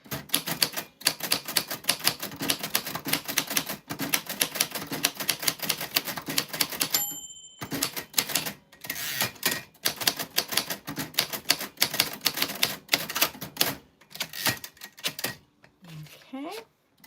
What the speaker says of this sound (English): I am a poet who makes poetry on this exact typewriter